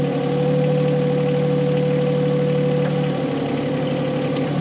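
Engine of an excavator converted into a wood splitter runs steadily with a constant mechanical drone, its pitch easing slightly higher after the throttle goes up, with no talking.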